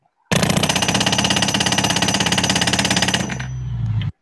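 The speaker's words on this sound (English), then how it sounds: "The pneumatic spiker, and here's a couple second clip of it in action." A pneumatic spiker drives rail spikes while 30-inch gauge track is laid, a loud close rapid-fire hammering burst that runs about three seconds, then eases into a lower droning hiss before cutting off.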